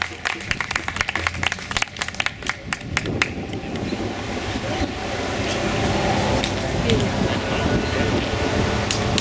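Outdoor crowd at a protest applauds a speaker from Veterans for Peace; scattered sharp claps at first swell into a continuous roar of clapping and cheering, with wind-like noise underneath.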